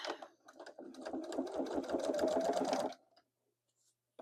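A Singer Quantum sewing machine runs in a rapid, steady stitching rhythm for about three seconds while binding a quilt, then stops, leaving near silence.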